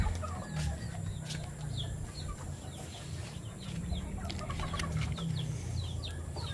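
Fighting cocks and hens in a pen cluck and call repeatedly, a steady stream of short clucks with scattered higher calls and no talk.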